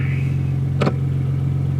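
A car's engine hums steadily at the top of third gear during a test drive after a chassis-mounted short shifter is fitted, with a loud, even, low drone and a brief click in the middle.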